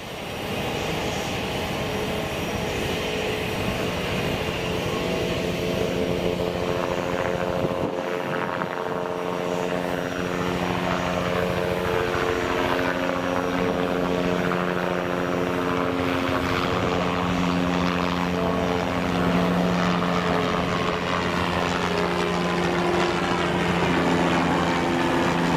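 A departing airliner near King County International Airport, Boeing Field, roars loudly and continuously overhead, its engine tone sweeping in pitch as it climbs past and passes by.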